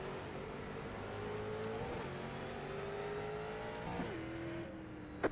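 Street stock race cars accelerating off a green flag start: engines drone steadily in the middle distance, pitch climbing through gear shifts, a sustained roar with no voices over it.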